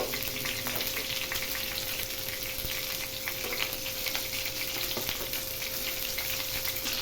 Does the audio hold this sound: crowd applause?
no